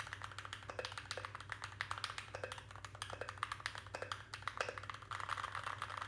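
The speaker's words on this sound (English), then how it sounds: "Let's get a feeling and sound test." Typing on a Keychron keyboard with Gateron switches, a rapid, dense run of soft clicky keystrokes at steady pace, close and fairly quiet, with no voice over it.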